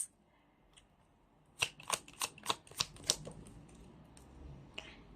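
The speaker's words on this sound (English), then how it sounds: "Saw me shuffle." Tarot cards being shuffled, a quick series of about eight crisp riffling snaps close by in a quiet room, with a few faint card taps before and after.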